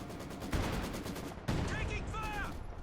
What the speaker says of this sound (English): Another bombardment there from the field gun.